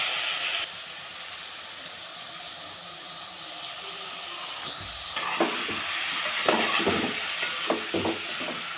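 Brinjal pieces with green chili, onion, curry leaves, turmeric, salt, ginger paste and coriander frying in oil for an aloo-brinjal-tomato curry, a steady hiss swelling louder partway through as a spoon stirs with scraping knocks.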